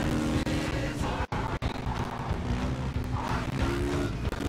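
A motorbike ridden in the Gangstar New Orleans video game makes a continuous droning engine hum mixed with wind-like rushing, fairly even throughout, with two brief sharp cutouts early on.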